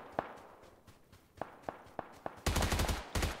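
Gunfire in the video game Warzone: scattered single shots ring out at irregular intervals, then a dense, loud burst of rapid automatic fire near the end, with faint footsteps between.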